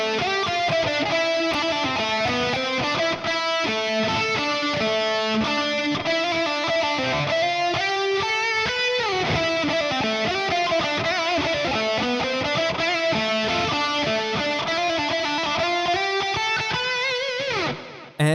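Heavily distorted electric guitar plays a busy, fast melodic line, loud and continuous for about eighteen seconds, with sustained notes and rapid runs throughout.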